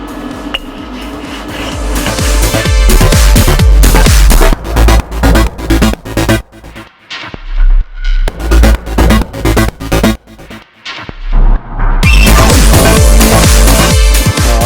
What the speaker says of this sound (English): So I'll keep honing this until we get it nice and clean, and we'll do the same on the other side.